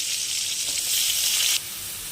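Steady loud sizzling of finely chopped onions frying in hot oil, a bright hiss that swells and then drops slightly as it settles.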